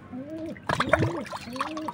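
Lemon water poured into pigeon drinkers in a loft makes a brief splash and trickle, with faint chirping pigeons around it, close and fairly soft.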